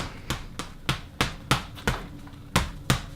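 Punches thudding into a heavy boxing bag during a drill, eight or so sharp impacts at a steady, fairly quick rhythm, close and clear with no talk.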